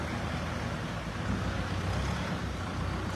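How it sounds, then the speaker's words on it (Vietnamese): A Kubota tractor engine runs at 3100 rpm with a dense, steady, loud rumble and low throbbing, continuous throughout with no speech over it. "anh em nghe tiếng động cơ trong video anh em thấy không?"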